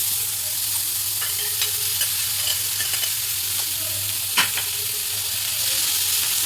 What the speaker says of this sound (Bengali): ভালো করে এটা মিশিয়ে নেব